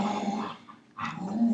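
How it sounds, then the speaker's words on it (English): Several dogs growl and yip in the background at a steady level through most of the moment, briefly dropping away before picking up again, with no talking over them. "my dogs. They're kind of going crazy in the background."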